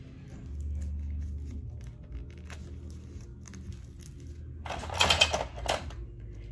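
Tape being pulled and torn while securing a transfer onto a sequin pillow for sublimation, with a soft low hum throughout and a burst of ripping and crinkling near the end.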